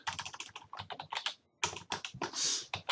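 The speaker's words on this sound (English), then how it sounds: "Having trouble typing." Rapid typing on a computer keyboard, a dense run of close, crisp key clicks with a brief pause midway before the tapping resumes.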